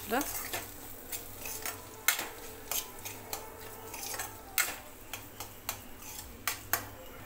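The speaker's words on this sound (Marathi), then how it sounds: "आपले जे उकडलेली अंडी होती किसून घेतलेली ती टाकून घ्यायची आणि मिक्स करायचं आहे" Grated boiled eggs stirred into a masala in a pan for street-style anda ghotala, with a rhythmic series of sharp spatula clinks and scrapes against the metal over a faint low sizzle.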